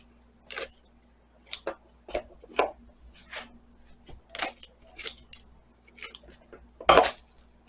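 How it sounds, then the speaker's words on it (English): Scissors snip the tops off sweet peppers in a kitchen, about ten crisp separate cuts at an irregular pace, close and fairly quiet, with no talking. "So you're going to go ahead and snip the top off of these."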